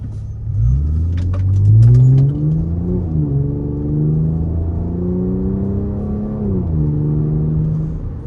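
An Audi A6 engine revs up and accelerates, its tone rising and shifting through gears, loud and close with a steady rumble underneath.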